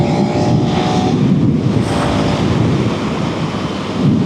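A KTM 390 Enduro R motorcycle cruising at highway speed, around 60 mph at 5,000 RPM, gives a steady loud roar heavily masked by rushing wind buffeting the microphone, with no pauses throughout.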